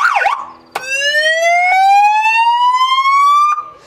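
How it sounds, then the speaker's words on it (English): A loud siren fitted to a Foxbat A22 Kelpie light aircraft sweeps upward in a long rising wail after a short warbling chirp, close and dominant with nothing else heard. "this aircraft is actually equipped with a very loud siren, again with a separate switch and two siren options"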